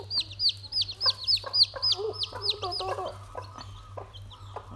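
A hen clucks with newly hatched chicks, their high rapid peeps repeating in quick bursts over low clucking, close and fairly clear against a steady background hum.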